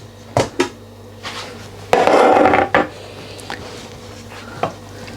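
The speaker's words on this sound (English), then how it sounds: "now I'm going to remove the lid to show you how it looks" Pressure cooker lid coming off a pot of lamb paya curry, a few sharp metallic clicks and knocks, then a loud hissing rush of steam for under a second, followed by more clatter.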